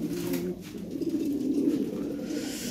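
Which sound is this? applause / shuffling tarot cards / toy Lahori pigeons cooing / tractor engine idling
toy Lahori pigeons cooing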